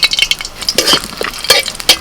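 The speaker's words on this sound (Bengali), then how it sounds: "চার পাঁচটা শুকনো লঙ্কাকে আমি তেলের মধ্যে ভেজে নেব" Four or five dried red chillies frying in hot oil in a pan for a prawn and pumpkin-greens dish, giving a crackling sizzle with intermittent stirring scrapes and light clinks, close by and without talk.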